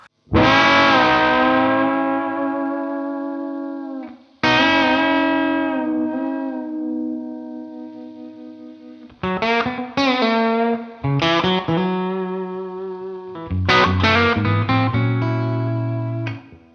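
A Novo electric guitar plays sustained chords and note clusters through effects, with distortion and shimmering echo letting each strum ring out before the next.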